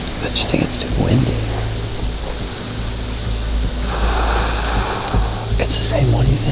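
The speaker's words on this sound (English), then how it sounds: "I just think it's too windy." Strong wind buffets the microphone over a steady rushing roar like surf or a boat engine, with voices talking faintly now and then.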